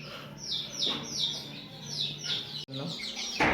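Backyard village chickens peep and chirp repeatedly, with short high calls in an uneven rhythm, close by over a soft background hum.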